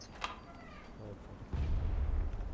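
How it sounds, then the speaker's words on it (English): Distant, muffled explosions from a shooting video game, heard as a low rumbling boom that swells midway, with people talking over it. "I hear a lot of explosions."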